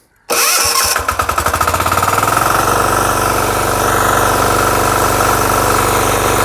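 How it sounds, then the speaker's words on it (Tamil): A VSAN Agro Himalayan 900 E 9HP power weeder engine starts, with quick sputtering chugs that settle within a couple of seconds into a loud, steady close-up idle rattle. "பண்ணிவிட்டு இப்போ நான் ஸ்டார்ட் பண்ணுறேன்."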